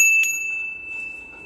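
A cattle neck bell tied on a rope collar gives a single bright metallic strike near the start, then a clear ringing tone that slowly fades over a second or so, close by and with no talk.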